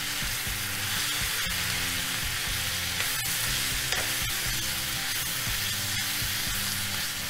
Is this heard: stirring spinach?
yes